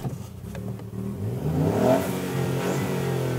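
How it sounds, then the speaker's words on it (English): A 2018 Ford Fiesta ST hot hatch engine revs up, its note rising and swelling loudly and close, with a warbling, fizzy tone and a brief pop near the end. "an engine note that warbles and fizzes impatiently, with a few exhaust pops and crackles thrown in for good measure"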